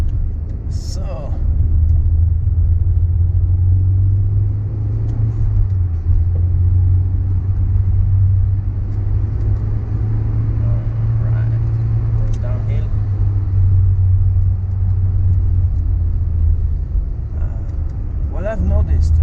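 A Nissan Sunny Coupe GTi driving on Swiss mountain roads, its engine a loud, steady low rumble heard from inside the car throughout, with slight swells in revs and faint road noise.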